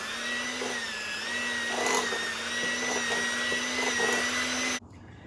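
Electric hand mixer whirring steadily through thick oatmeal cookie batter as the last of the flour is worked in, a continuous motor hum with slight pitch wobble that cuts off abruptly near the end.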